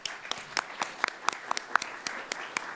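Scattered, fairly faint hand clapping at a city council meeting, a thin spread of claps across the room rather than a full ovation.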